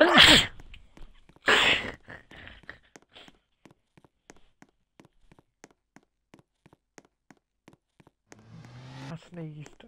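A loud sneeze bursts out at the start and a second follows about a second later during a Roblox game, then soft repeated ticking steps and a brief voice near the end.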